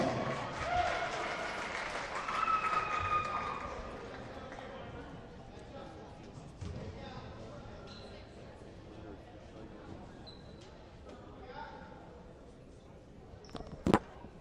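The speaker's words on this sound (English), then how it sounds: "Let's give these young ladies a great round of applause." A crowd in a gym applauds a girls basketball team at a rotary championship game, with broad, loud clapping and cheering that gradually fades while chatter and a ball bouncing continue underneath.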